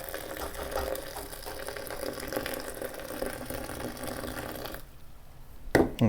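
Hot water poured into a plastic bag to make a prison burrito, a steady splashing stream with mechanical rattling that cuts off near the end, followed by a couple of brief clatters.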